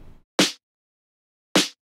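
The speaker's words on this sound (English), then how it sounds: "The snare, one of the snares sounds like this." Two separate snare drum hits from a Splice sample pack, each a sharp, bright crack with a short decay, spaced about a second apart and heard alone after a brief bit of faint lead-in sound.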